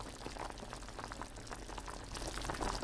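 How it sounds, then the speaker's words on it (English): Chicken broth at a steady boil in a pot on medium-high heat, a continuous bubbling and popping hiss heard close up with no voices. "At this point, we see the chicken broth is boiling."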